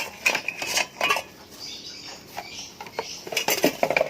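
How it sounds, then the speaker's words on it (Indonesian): Boiled and steamed metal instruments are placed into chlorine water for decontamination, producing a series of close metallic clinks and clatters with short pauses between them. "lalu kita masukkan alat-alat yang sudah direbus dan dikukus tadi ke dalam air klorin"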